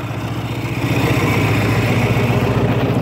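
A tractor engine idles while warming up on a cold winter day, a steady low chugging rumble close by that grows slightly louder after the first second, with no talk.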